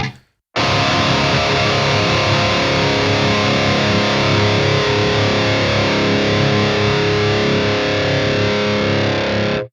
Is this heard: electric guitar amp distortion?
yes